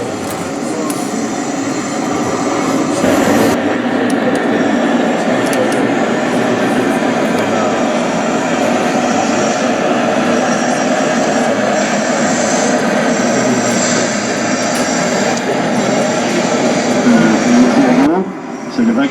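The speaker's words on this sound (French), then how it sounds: "vous allez avoir un train de torpilles arriver" A model train of torpedo wagons, specialised cars for carrying molten iron, rolls into an exhibition layout, a steady loud rumbling run lasting throughout, heard in a busy hall with people talking around it.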